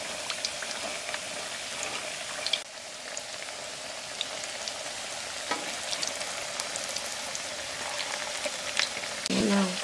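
Plantains frying in oil in a pan, a steady soft sizzle that runs throughout, close and moderately loud, with a few small pops and crackles.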